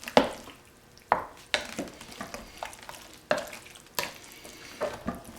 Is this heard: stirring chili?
yes